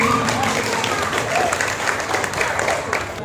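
Applause from an evening gathering of a regional cultural organisation: a crowd clapping steadily and fairly loud, with the sound filling the room and a few voices mixed into the clapping.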